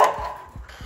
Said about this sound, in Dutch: Wat zijn jullie aan blaffen?